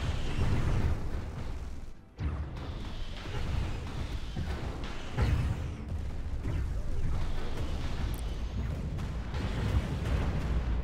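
Stellaris space battle with missiles launching and detonating in dense overlapping bursts, a steady rumble of booms and pops at high intensity with one brief dip in the middle.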